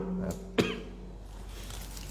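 A single sharp cough near the mic, preceded by a brief vocal sound, then quiet room tone.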